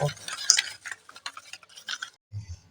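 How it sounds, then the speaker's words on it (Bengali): Eggs being beaten in a bowl for chocolate cake batter, a quick run of light clicking, tapping strokes of utensil against the bowl, close and fairly soft, ending in a short pause before a few low knocks. "ডিমটাকে এইভাবে দিয়ে আমি ভালো করে ফেটে নেব দু তিন মিনিট ধরে"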